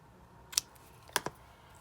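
Scissors trim ribbon ends on a paper craft tag, two or three quiet, crisp snips spaced about half a second apart against a faint room hush.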